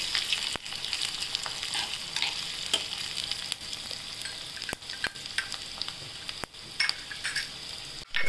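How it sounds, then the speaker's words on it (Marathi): Chopped garlic and cumin seeds frying in hot oil for a spinach dish, a steady close sizzle broken by sharp clicks and scrapes of a spoon stirring in the pan. "आता आपण ह्याला सोनेरी रंग येईपर्यंत तेलात परतून घेऊया"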